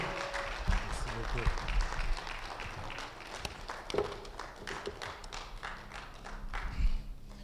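Church congregation applauding at a Sunday service, a broad wash of clapping with scattered thumps filling the whole stretch at moderate level, with some talk mixed in.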